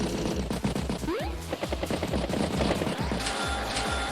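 Dense video-game gunfire strikes on infantry units in Advance Wars by Web, a loud continuous rattle of rapid shots and impacts layered with game effects, steady throughout with no voices.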